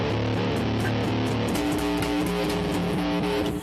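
A layered bass part built on a looper pedal, a dense, steady groove of low repeating notes under a busy, loud mix of looped parts that runs continuously.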